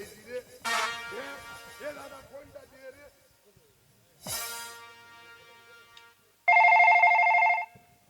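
After some voices and a brief noise, a telephone rings loudly in one sustained electronic burst.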